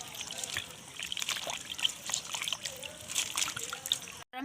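Edible lime being stirred into water in a bowl, with trickling, sloshing and light splashing at close range, continuous and fairly quiet, a voice faintly in the background.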